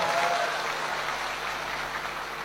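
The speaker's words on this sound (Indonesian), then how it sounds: "Aplaus dulu dong" Audience applause at a corporate finance presentation, a steady dense wash of clapping from a crowd that stays even throughout, fairly loud and close with no voices over it.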